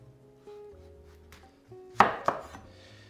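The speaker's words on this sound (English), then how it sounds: "And cut the cantaloupe halves in half." Knife slicing through cantaloupe halves on a cutting board, two sharp close chops in quick succession after some quiet handling, with no talking.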